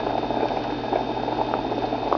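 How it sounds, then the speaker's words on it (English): Water on high heat in a 2-quart non-stick saucepan churns toward a rolling boil, a dense, steady bubbling patter with a faint electrical hum beneath. "And right now it's almost to a rolling boil to me."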